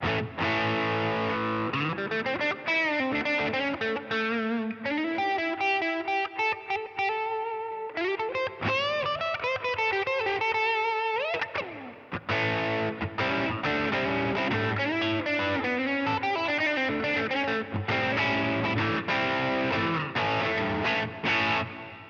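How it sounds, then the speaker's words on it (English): A clean-to-crunchy cheap electric guitar plugged straight into a Line 6 Helix amp modeler, strummed chords and single-note runs with a steady, full, slightly driven tone. "this guitar I've got plugged straight into my Line 6 Helix"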